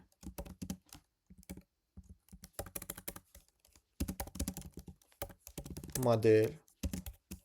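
Java code being typed on a computer keyboard, bursts of close crisp key clicks in irregular runs separated by short pauses, with a brief voiced sound near the end.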